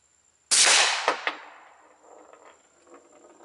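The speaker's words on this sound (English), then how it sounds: "We're shooting the Tula Brass Max 115 grain over the chronograph." A suppressed Glock 19 in 9mm with a SilencerCo Octane 45 suppressor fires Tula Brass Max 115 grain rounds over a chronograph: one sharp, loud muffled report followed by a quick second crack and a decaying tail.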